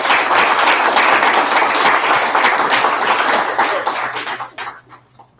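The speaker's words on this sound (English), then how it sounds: "Big round of applause for James." A room of attendees at a Chicago Python user group meetup claps enthusiastically for a speaker. The dense, loud applause holds steady, then thins into a few scattered claps and dies away.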